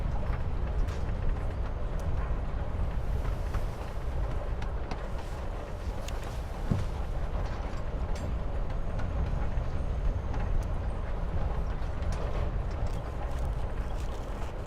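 Steady train-ride ambience in Life is Strange: Before the Storm, with a continuous low rumble and rattle of wheels on track and a faint repeating clatter, no talk.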